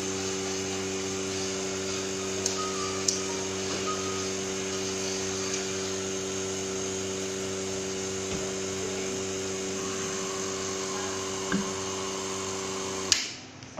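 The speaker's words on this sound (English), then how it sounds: "Now open the pump." Pump of a film lamination machine for laminating OCA on an iPhone screen running as a constant droning hum with a steady mechanical whine, broken by a few faint clicks and ending in a sudden cutoff.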